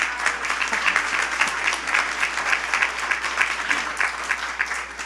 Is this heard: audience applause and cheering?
yes